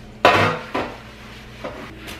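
A pan picked up and set down in a home kitchen, a loud metallic clank followed by two softer knocks, close and with no talking.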